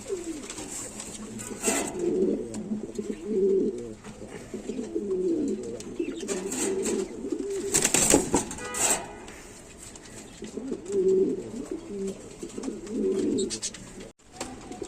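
Pigeons kept for sale as breeding pairs coo in low, throaty bursts that come and go in clusters, close and fairly loud, with some handling noise and a sharp knock near the end.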